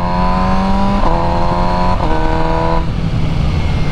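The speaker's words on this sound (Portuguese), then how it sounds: "Não sei se deu para vocês ouvirem o som do quick shifter atuando, mas é bem legal." MV Agusta Brutale 1000 RR motorcycle engine running steadily, with quick shifter gear changes marked by brief interruptions and pitch shifts about once a second, close and loud.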